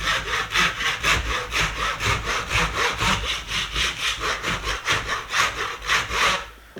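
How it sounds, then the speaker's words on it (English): A hand saw cuts through wood held by a G-clamp in steady back-and-forth strokes, about three per second. The rasping is loud and close and stops abruptly at the end. "clamp it with a second G-clamp, and then just simply run the saw back down the cut"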